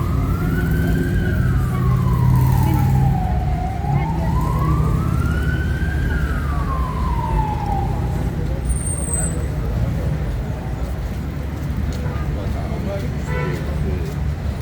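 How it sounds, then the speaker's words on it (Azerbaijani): An ambulance siren wails in rising and falling sweeps through stuck traffic during Independence Day crowds in Azerbaijan, clear for about eight seconds over a steady roar of road noise and murmuring voices. "Təcili yardım getdi köməyə. Maşınların əlindən keçə bilmirdi."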